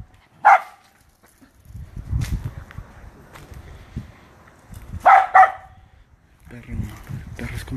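Dog in a cemetery barking in a few sharp, moderately distant barks, a single bark then a quick pair, while people talk quietly nearby.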